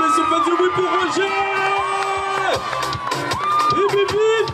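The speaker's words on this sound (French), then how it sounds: "On peut l'applaudir bien fort," A crowd at the final of a large karaoke contest in Guadeloupe cheers and whoops loudly for the winner, a continuous roar with tonal shouts running throughout.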